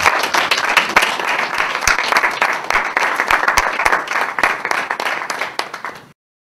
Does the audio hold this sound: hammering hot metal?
no